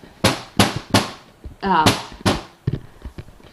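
Several sharp, hollow bangs from a child banging on a kitchen island strike in an uneven rhythm, close by, with a brief voice between them.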